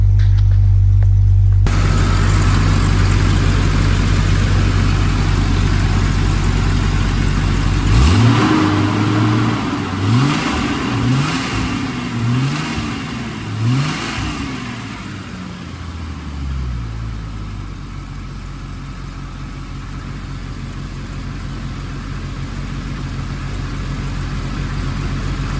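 A car engine, just repaired with a new crank position sensor, starts and settles into a steady idle, then is revved several times in quick rising-and-falling bursts before returning to a smooth idle, loud and close with no talking.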